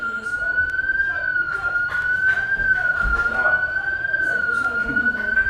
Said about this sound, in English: Hopefully that's just someone's car alarm and not actually a lightning alarm.